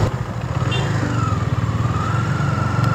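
A KTM Duke motorcycle runs close by with a steady, throbbing engine drone and a faint whine, its pulsing rhythm holding evenly throughout without speech.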